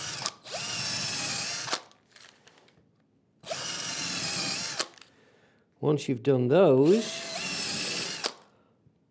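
Power drill boring through pieces of work, three loud sustained bursts of about one and a half seconds each, separated by pauses, with someone speaking between them.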